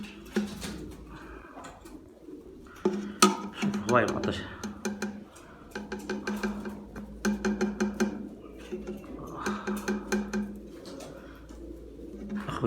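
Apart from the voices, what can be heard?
pigeons cooing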